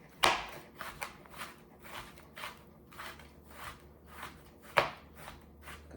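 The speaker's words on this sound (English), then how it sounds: "I might want to chop down a little more" A knife chops cabbage on a cutting board in irregular, soft strokes, with a few sharper cuts standing out, close by and fairly quiet, no talking.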